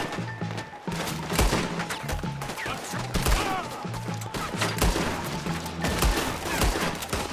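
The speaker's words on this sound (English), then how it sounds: "Arthur, shoot someone!" Rapid, overlapping gunfire from a shootout in Red Dead Redemption 2 crackles continuously beside a wagon, with loud shots and volleys over a low, rhythmic music score and brief shouted voices.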